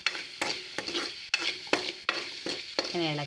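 Tomatoes for rasam stirred and sautéed in a hot pan, with repeated sharp utensil scrapes against the pan over a steady sizzle, close and fairly loud, and no talk.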